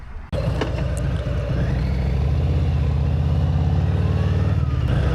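A Harley motorcycle cruises along the Tamiami Trail in Florida, its engine kicking in abruptly and then holding a loud, steady low rumble with a pulsing throb throughout, heard up close from the rider's position.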